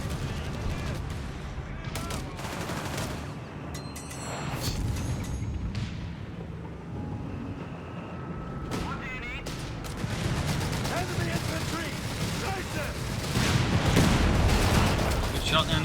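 Company of Heroes 3 battle with rattling gunfire and heavy artillery booms scattered throughout, building toward dense explosions near the end, all under continuous casting speech.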